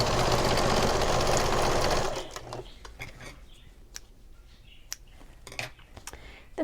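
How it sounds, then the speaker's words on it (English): A sewing machine runs steadily for about two seconds, stitching a stocking cuff seam at a quarter-inch allowance. It then stops, leaving scattered light clicks and handling sounds. "now I'm going to sew the cuff together, back to 1/4 inch seam allowance"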